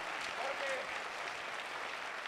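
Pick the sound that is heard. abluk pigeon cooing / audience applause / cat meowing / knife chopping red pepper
audience applause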